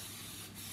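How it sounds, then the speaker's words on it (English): Cake release spray hisses from a can into a cake pan in a home kitchen, one short, steady, close hiss of about a second. "Just give that a light spray."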